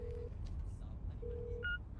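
A phone keypad gives two steady beep tones, one at the start and another about a second later, followed by a short higher two-tone chirp, all faint over a low background hum.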